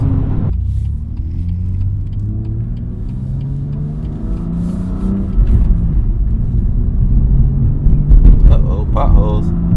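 A BMW M2 accelerates hard on a city road in Detroit, its engine rumble rising and growing louder over several seconds, with tire and road noise and someone talking over it.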